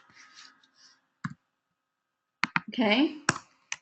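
A few isolated clicks of a computer keyboard, sparse and close, with a person speaking between them.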